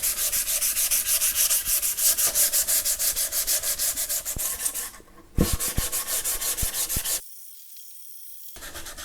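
Hand sanding of an ES-335-style guitar finish with 240-grit wet and dry paper, a quick rhythmic back-and-forth rubbing in close, loud strokes, then a pause and a quieter stretch.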